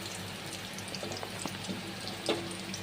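Soybean chunks sizzle in hot oil in a pan, a steady close crackle with occasional louder pops, heard alone without talk.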